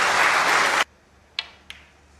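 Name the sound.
snooker crowd applauding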